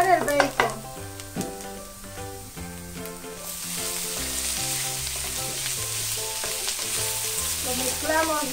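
Bacon sizzling in a pan with softened onion, a steady soft hiss under louder background music, growing fuller partway through.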